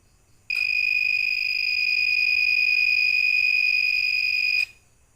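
An LDR light-sensor mini project's buzzer sounds one steady high-pitched electronic tone, loud and close, lasting about four seconds before cutting off abruptly.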